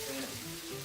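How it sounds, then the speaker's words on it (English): Seasoned fries sizzle in a hot pan, a close, continuous crackling fry with a faint hum beneath and no speech over it. "That sizzle means the fries start to cook as soon as you put them on there."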